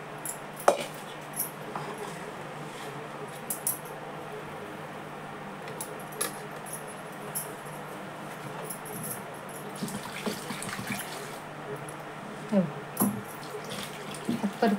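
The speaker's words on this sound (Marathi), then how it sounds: "ह्यात परत पाणी टाकून घ्यायचं पिळून" Water runs and splashes steadily into a pot to rinse wheat pulp while making kurdai, a dried wheat snack, with light clinks and knocks from the vessel throughout.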